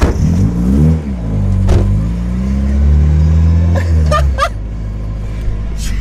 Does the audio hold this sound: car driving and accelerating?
yes